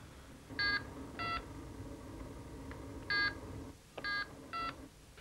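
A landline telephone number is dialled in a home, a sequence of short DTMF keypad tones in uneven groups over a steady low hum, with no talking.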